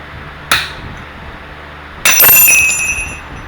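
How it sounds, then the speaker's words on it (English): A hammer taps a chisel to knock parts off a Cub Cadet 30mm axle: two sharp, close metallic strikes about one and a half seconds apart, each ringing briefly afterward, with no talk. "But you just take a chisel very lightly."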